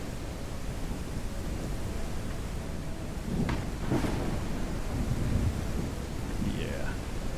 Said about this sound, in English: I love this rain and thunder,